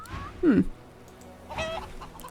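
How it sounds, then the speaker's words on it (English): Chickens cluck in the fantasy role-playing game Divinity: Original Sin 2, two short separate clucks over a quiet in-game ambience with no talk. "Oh look, chickens! We can talk to chickens."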